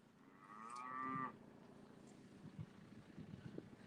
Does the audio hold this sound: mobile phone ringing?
no